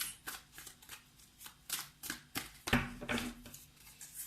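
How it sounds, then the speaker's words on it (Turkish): Tarot cards are shuffled and drawn by hand, producing a rapid series of close, crisp riffles and flicks in uneven bursts, ending with a sharper slap of a card being placed, with no talk. "O yüzden üzerine bir kart daha seçiyorum."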